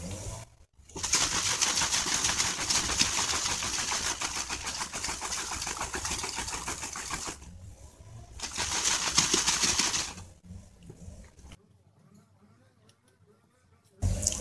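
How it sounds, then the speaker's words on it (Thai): A closed bottle holding a rice-washing water mix with sugar shaken hard so the sugar dissolves: two long bursts of rapid, rhythmic sloshing split by a short pause, then near silence. "เสร็จแล้วเราก็จะปิดฝานะครับแล้วก็จะเขย่าให้น้ำตาลละลายนะครับ"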